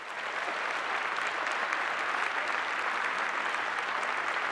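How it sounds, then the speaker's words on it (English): Sustained applause from a graduate commencement audience, a dense, steady wash of clapping that holds evenly from start to finish with no voices on top. "Give everybody a round of applause."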